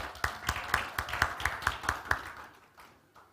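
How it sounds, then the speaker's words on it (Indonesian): Clapping at a year-end church service, sparse and rhythmic with about nine distinct claps in a steady beat, fading out over the last second. "Kita beri tepuk tangan yang meriah dulu."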